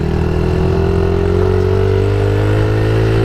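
A Suzuki DRZ 70 dirt bike engine pulls loudly in third gear up a bumpy trail, its buzzing note rising steadily as it accelerates, close and continuous with no talk.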